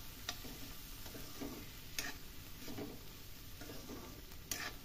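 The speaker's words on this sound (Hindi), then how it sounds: "हल्दी को भी मिक्स कर देती हूँ।" Turmeric powder being stirred into a potato and mustard pod curry in a pan, soft steady sizzling with periodic spoon scrapes and taps, quiet and close.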